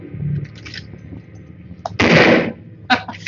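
Gunfire in a video game about a sniper, one loud broadband burst lasting about half a second, then a sharp shorter shot, with quieter clatter and low rumble before.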